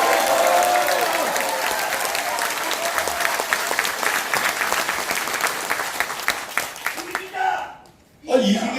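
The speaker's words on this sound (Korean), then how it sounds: "뜨겁게 박수로 한번 서로 보내주시기 바랍니다" Dense, loud applause from a party members' audience at a political education event in a cultural center hall, with crowd noise and voices, dying down near the end before a short voice.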